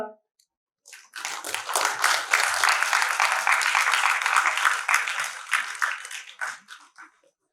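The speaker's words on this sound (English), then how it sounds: "loud applause again please" After a short silence, a crowd at a university convocation bursts into steady applause for graduates that holds for several seconds, then thins out and fades.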